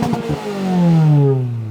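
Car engine revved hard toward an 8,200 rpm redline, a few quick blips followed by one loud, close sweep rising in pitch and easing off at the end.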